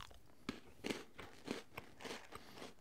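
Crunchy Maltesers chocolate malt balls are chewed close up, giving about half a dozen quiet, crisp crunching bites in an irregular rhythm with no talking.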